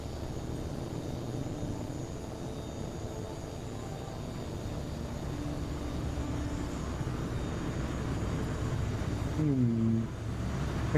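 A fighter jet in Tom Clancy's H.A.W.X. 2 takes off, its engine building into a steady, swelling roar that grows louder over about ten seconds before cutting off abruptly.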